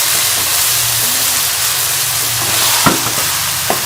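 Chicken keema sizzles steadily in a pan as coriander and onion are stirred through it, a constant close frying hiss with a couple of soft scraping knocks near the end.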